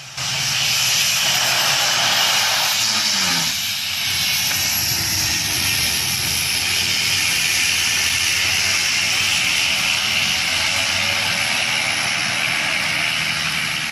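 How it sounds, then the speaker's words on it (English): A Beechcraft Duke piston twin roars loudly and continuously on landing, a steady propeller-engine drone with a brief shift around a tire blowout, no talking. "This Beach Duke was landing when it blew a tire and veered off the runway."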